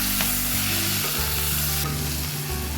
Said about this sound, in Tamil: இந்த கீரையை நம்ம இதிலே போட்டு வதக்கிக்கலாம்.